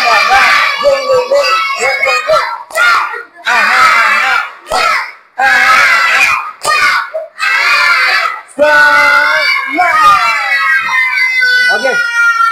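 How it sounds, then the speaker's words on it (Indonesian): A classroom group of teachers and students performs the tepuk semangat clapping chant, with loud rhythmic bursts of shouted chanting and claps in quick sections separated by short pauses. "Masih ingat tepuk semangat?"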